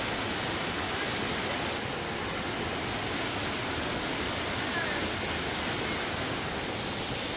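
A steady, dense roar of falling water from Jeolgu Falls on Juwangsan in autumn fills the scene without a break, loud and close, with no voices over it.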